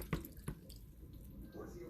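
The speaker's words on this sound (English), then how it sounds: "drain the sea moss again." Soaked sea moss drains, with a couple of distinct water drips and splashes near the start, followed by softer trickling and faint kitchen background, quiet and close.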